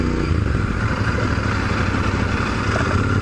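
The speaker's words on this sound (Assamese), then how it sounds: "ইয়াৰ সাউন্ডটো শুনিবলৈ প্যারালাল টুইনতকৈ বেছি 90 ডিগ্ৰী টুইন ভি ইঞ্জিনৰ টাইপ সাউন্ড এটা আহে" A Royal Enfield 650 parallel twin with a 270-degree firing angle runs steadily at close range, a dense, continuous low rumble with a clattery mechanical edge and no breaks.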